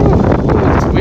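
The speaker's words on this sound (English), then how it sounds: "it's windy over here." Strong wind buffeting the microphone, a loud, steady roaring rumble throughout the short moment.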